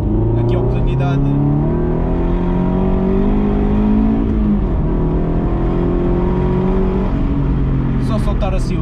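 A diesel car engine revs loudly and continuously up close, its drone climbing and falling through a few throttle blips.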